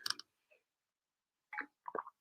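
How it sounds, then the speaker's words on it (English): A few soft, wet mouth sounds and a quick swallow, with short pauses between, close and quiet. "I'm going to take a sip of water."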